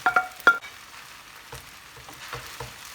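Egg goes into a pan for spicy chicken fried rice, with a few sharp clanks and taps at first, then a soft, patchy sizzle close by.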